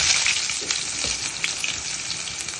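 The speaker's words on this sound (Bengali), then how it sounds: "এইবার এর মধ্যে ছাড়বো হচ্ছে পেঁয়াজটা দিয়ে দেবো।" Chopped onion sizzling in hot oil in an iron kadai, a steady bright crackle with a few sharper pops, close and alone with no talking.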